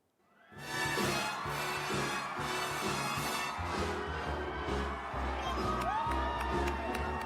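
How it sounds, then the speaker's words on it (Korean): A large audience at a Berlin Film Festival screening cheers, whoops and shouts in a loud, sustained crowd roar with mixed voices; it swells in after a quiet start and stays dense throughout. "영화가 끝난 뒤에 1분 넘게 아주 열렬한 박수갈채를 받았습니다"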